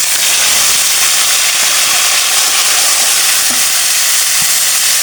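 Marinated chicken goes into hot oil and sizzles loudly and steadily up close, a dense continuous frying hiss that holds for several seconds without any talking.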